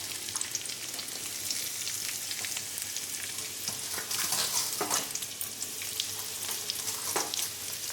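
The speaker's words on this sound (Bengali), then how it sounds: "আলুটা আরেকবার নেড়ে দিই। আলুটাও ভাজা ভাজা হয়ে গেছে" Potatoes fry in a pan, giving a dense, crackling sizzle up close, with occasional scraping bursts as they are stirred, and no voices.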